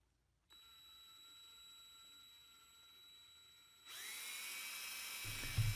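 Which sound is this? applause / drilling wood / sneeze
drilling wood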